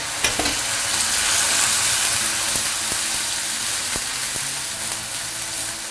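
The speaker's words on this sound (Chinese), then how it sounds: "稍微烹点花椒酒炒一炒，给它去腥" Meat stir-fried in a wok with a splash of Sichuan peppercorn wine, a loud hissing sizzle that steadily fades, with a few sharp clanks of the spatula against the pan.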